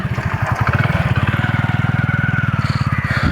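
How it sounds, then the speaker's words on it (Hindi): A motorcycle passing close by, its engine loud and throbbing in a fast, even pulse that builds and then eases slightly as it goes by. "बाइक वाला गुजर जाए फिर आपसे बात करता हूँ।"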